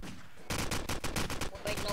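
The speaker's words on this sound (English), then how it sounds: "the tank battle started up again" Rapid, loud bursts of gunfire crackle in a tank battle in the sandbox game Garry's Mod, starting suddenly after a brief lull and continuing in quick repeated volleys.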